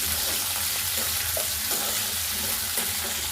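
Sliced onions frying in a pan for an ivy gourd and coconut fry, a steady broad sizzle with faint occasional scrapes, close and continuous with no talking.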